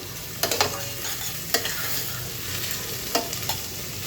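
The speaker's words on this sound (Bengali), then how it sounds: "পুরো এক কাপ পরিমাণ পেঁয়াজ কুচি এখানে আমি দিয়ে দিলাম এটাকে একটু ভেজে নিতে হবে" A full cup of chopped onion fries in a pan, a soft steady sizzle broken by several sharp spatula scrapes and clanks as it is stirred, with no talking.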